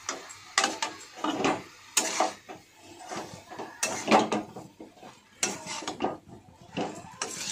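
Fried onions and shrimp with greens stir-fried in a metal pan, a spatula clanking and scraping against it in repeated bursts, close and fairly loud with no talking.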